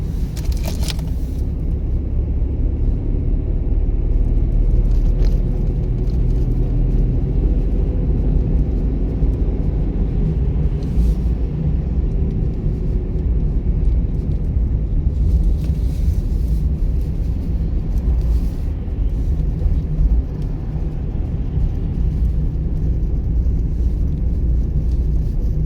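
A car's engine rumbling steadily and loudly during driving practice, a continuous low drone heard from inside the vehicle for the whole stretch, with faint clicks and no talking.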